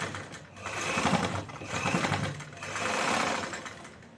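A sewing machine stitches the side seam of a choli in continuous runs of even mechanical whirring, swelling and easing across three close, loud passes with no talk.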